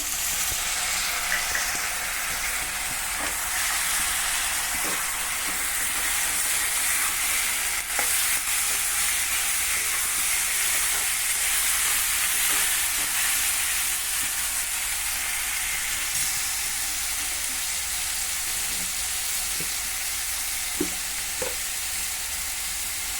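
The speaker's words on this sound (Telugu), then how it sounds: "ఉల్లిపాయ వేగిందండి, టమాటో వేసేస్తున్నాను" Chopped tomato tipped into fried onions in a pan for an amaranth and liver curry, a loud continuous sizzle and crackle with occasional stirring clinks, steady throughout with no talk.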